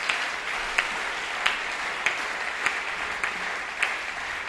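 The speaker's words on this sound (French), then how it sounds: "Est-ce que quelqu'un peut acclamer pour la gloire de Dieu?" A church congregation breaks into steady applause, a dense wash of many hands clapping throughout, with faint sharper claps popping out at roughly regular intervals.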